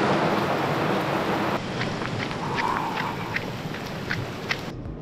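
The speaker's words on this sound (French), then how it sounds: "Et là il pleut de fou, donc je vais m'abriter." Heavy tropical downpour in Kuala Lumpur, a dense steady hiss of rain with no voices, easing a little partway through while scattered drips and splashes stand out nearby.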